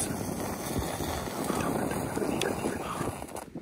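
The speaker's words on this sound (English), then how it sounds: "The problem is that the wind is a little bothering us." Outdoor wind buffets and rumbles against the microphone in strong, continuous gusts while a match-lit flame is shielded, loud and close, with a voice briefly audible under it.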